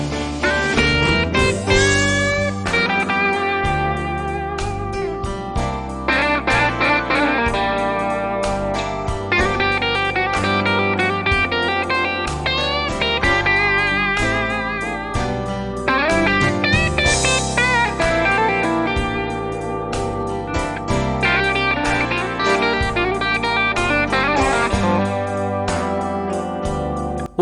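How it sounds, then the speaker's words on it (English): A Fender Stratocaster on its bridge pickup with overdrive plays slow blues licks, a continuous loud close run of bent and sustained phrases with no talking. "What you just heard there was some slow blues playing, all on the back bridge pickup"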